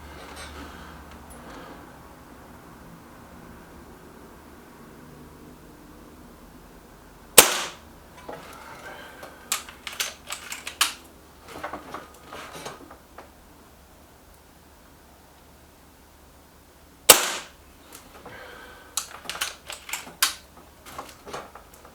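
A Beeman 1357 air pistol fires JTS pellets at a paper target, two sharp close shots about ten seconds apart, each followed by light clicking and handling noises in a quiet room.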